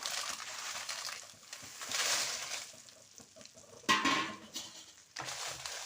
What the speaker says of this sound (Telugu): ఎండుమిరపకాయలు ఎక్కువగానే వేయించుకుంటున్నానండి